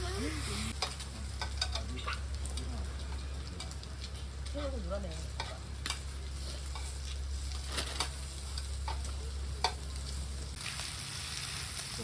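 Food sizzles and crackles steadily in hot oil in a pan, with a constant low hum underneath and occasional brief clatters.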